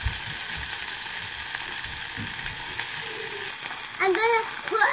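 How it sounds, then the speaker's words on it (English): Pork frying in a hot pan, with a steady sizzle and scattered pops close by, followed near the end by brief clinks and scraping of utensils. "And now I'm going to put the pork in."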